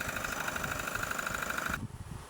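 A 2020 Toyota HiAce commuter van idles during an oil change, a steady close engine hum with a high whine that suddenly drops away near the end, leaving a lower rumble.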